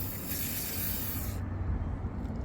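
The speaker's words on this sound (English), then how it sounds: "give it a quick little spray with WD-40" A WD-40 aerosol can sprays onto car door wires in one steady, fairly quiet hiss lasting about a second and a half before cutting off, leaving only faint low background rumble.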